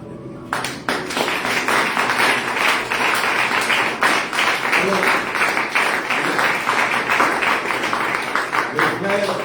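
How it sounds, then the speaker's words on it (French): A church congregation claps together in steady rhythm during worship, loud, close and sustained, with voices mixed in beneath the applause. "Applaudissons le Seigneur."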